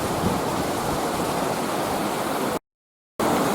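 A large water wheel at Wellbrook beetling mill turns with a constant loud rush of falling water, broken once by a brief complete silence before the roar resumes.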